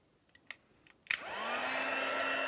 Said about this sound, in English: we will do a little bit of heat embossing